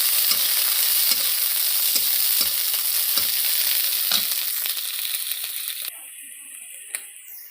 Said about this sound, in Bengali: বিনসটা মোটামুটি ফ্রাই হয়ে গেছে